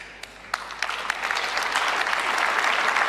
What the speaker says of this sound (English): The other women just forcefully clapping.